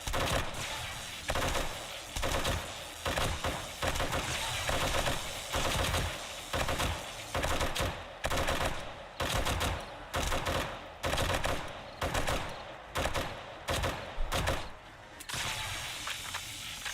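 An M60 machine gun in the video game 7 Days to Die fires long, rapid bursts, loud and close, with short pauses between volleys throughout, and no talking over it.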